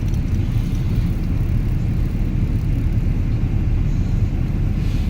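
A car with failing power steering rolls along, its interior filled with a loud, constant low rumble of engine and road noise that holds steady throughout with no talking.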